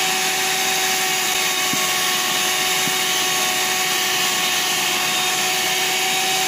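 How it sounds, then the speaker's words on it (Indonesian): An electric hand mixer beats sweet potato dough in a bowl, a loud, steady, unbroken motor whir with a constant pitch that runs through the whole stretch without talking. "Pokoknya mixernya itu sampai warna adonannya itu putih, kental, mengembang dan juga berjejak."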